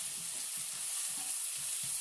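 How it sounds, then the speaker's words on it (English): Onions and ham sautéing in a hot pan for Thanksgiving side dishes, a steady close sizzle with faint stirring scrapes, no voices. "it's not going to be long now until everything is all sauteed and grilled onions and grilled ham."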